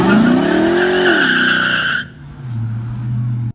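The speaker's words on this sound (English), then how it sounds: "the RT comes with an open differential, which is why you get those one wheel peels" Dodge Charger R/T with an open differential doing a one-wheel peel: a loud, sustained tire squeal with roaring engine for about two seconds, then dropping to a steady low engine rumble.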